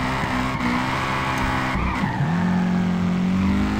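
Tires skid and squeal as a car drifts sideways in the Peak Angle Drift Online racing game, the engine droning steadily beneath a continuous screech that bends in pitch midway, loud and close throughout.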